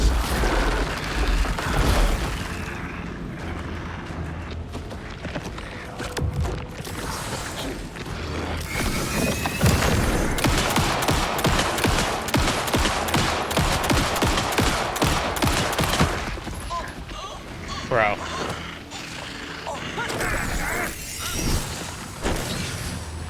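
Gunfire in the video game Alan Wake 2, with rapid bursts of shots and mechanical clicks over about twenty seconds, loud and close, with dense stretches of repeated firing and booms.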